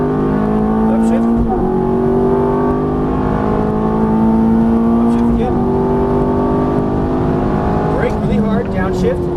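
Ferrari F430 engine revving and shifting while driven on a course marked with cones, a loud steady engine note that rises, dips at gear changes and rises again, under an instructor's continuous spoken coaching.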